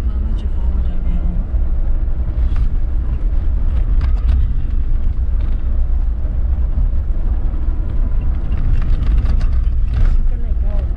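A car drives across the Atacama desert, a loud, constant low rumble of engine and tires with wind buffeting throughout, while people talk over it.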